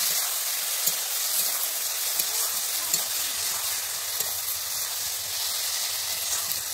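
Ridge gourd and potato curry with onion frying in oil in a pan, a steady soft sizzle with faint stirring clicks throughout, no water added, no voices.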